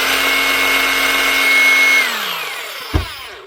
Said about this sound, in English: And the other setting then is the rotary hammer mode.